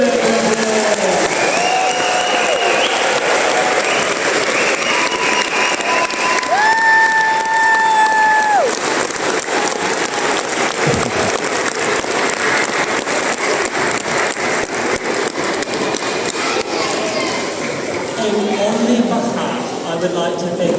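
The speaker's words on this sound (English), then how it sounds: "could you give them another big round of applause?" An audience at a children's choir concert claps loudly and steadily, a dense, sustained round of applause filling the space, with a brief tonal hum partway through.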